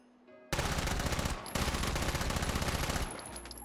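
Gunfire in the VR game Hot Dogs, Horseshoes & Hand Grenades comes as loud, rapid, continuous rattling bursts, starting after a quiet half-second and briefly breaking between two long strings of shots.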